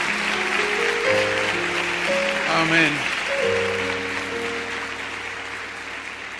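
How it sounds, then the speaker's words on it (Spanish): A church congregation applauds during a service, with moderate clapping under sustained keyboard chords and a sliding tone, while a voice speaks briefly over it. "Dale un aplauso al Señor."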